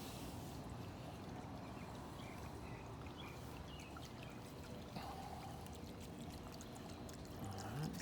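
A built garden water fountain trickles and splashes steadily, soft and continuous, heard close with no talk.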